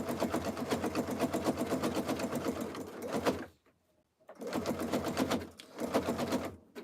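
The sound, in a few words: sewing machine stitching a jelly roll rug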